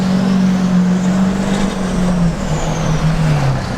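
Twin turbo LML Duramax diesel truck engine roaring steadily and loud up close, its deep drone holding then sliding lower with a faint high whine on top, no talk.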